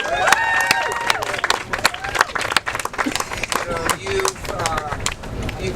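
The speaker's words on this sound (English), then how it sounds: "So a round of applause for all of you." Students and Committee to Save Cooper Union supporters clap and cheer at a press conference, scattered sharp claps mixed with loud crowd chatter and voices talking over the applause close by.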